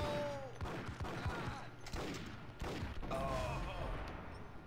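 Several bursts of gunfire ring out in the Max Payne video game, spaced across a few seconds over background game sound and music.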